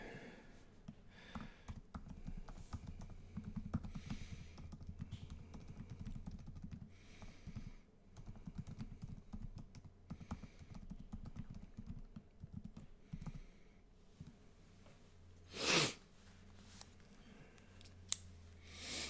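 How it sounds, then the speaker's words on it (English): Typing on a computer keyboard goes on steadily throughout, a quiet, close patter of irregular key clicks, with a brief louder knock near the end. "if you'll see me typing, that's what I'm doing"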